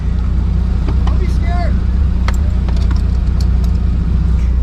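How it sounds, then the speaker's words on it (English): A Toyota Supra's engine runs with a loud, steady low rumble close by, while people talk over it. "we're about to start the Supra right now"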